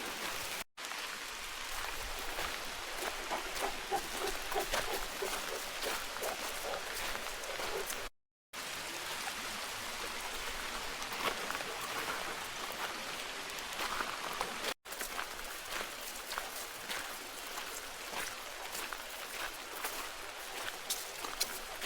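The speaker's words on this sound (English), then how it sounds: "days like today where it's raining" Rain falling on a wooded trail on a foggy day, a steady soft patter of drops on leaves and ground continuing throughout, faint and even, with a couple of very short silent gaps.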